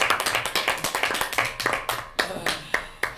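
Claps from a small group of players rounding off a tabletop game session, distinct hand claps in a quick uneven rhythm that thins out into a few slower, louder claps near the end.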